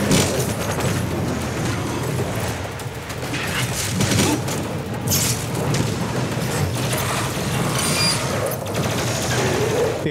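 Dense, continuous combat noise from the demon-slaying shooter DOOM Eternal, The Ancient Gods DLC, with super shotgun blasts, mechanical reload clacks and booms piled on top of each other at a steady loud level.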